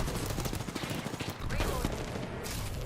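Gunfire in a shooting video game, dense crackling bursts of shots close by and overlapping, with a voice briefly audible beneath the noise.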